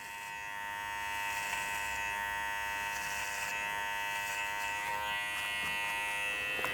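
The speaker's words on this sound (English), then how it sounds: "Once I hear it cutting, I start twisting the clipper out." Electric hair clipper buzzing steadily up close while cutting hair for a fade with a #1.5 guard, a constant motorized hum that rises slightly as the blade engages the hair, with no talk.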